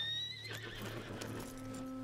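A horse in the video game Red Dead Online gives a loud whinny that falls in pitch, with a few hoof clops, against a low steady hum and no speech.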